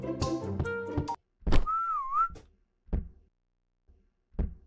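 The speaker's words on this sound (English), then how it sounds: "Who the freak is whistling?" A clear whistled tune in a haunted library horror video game, one wavering melodic phrase between knocking thuds and short bumps, heard alone without talk.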